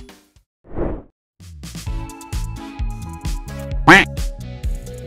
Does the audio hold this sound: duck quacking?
yes